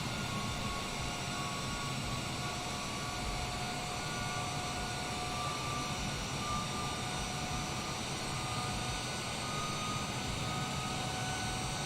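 A simulated airliner in a flight simulator game hums with a steady engine drone on its approach to land, the tone continuous and unchanging throughout, with no one speaking.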